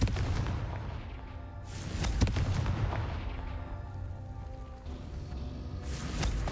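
Confringo fire spell explosions from Hogwarts Legacy, a series of loud booming blasts and crackling bursts stacked over a dense game soundscape, with strong hits near the start, around the two-second mark and again near the end.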